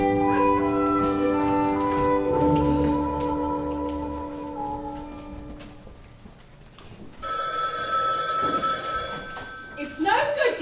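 A telephone bell rings as a stage sound effect during a live school play, a bright repeated electric ring heard over background noise and voices, with a second higher-pitched ringing burst later.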